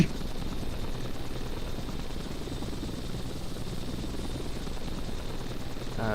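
A helicopter in the Flight Simulator X game gives a continuous, even rotor and engine drone at steady loudness with no talk, like a cockpit view while gaining speed.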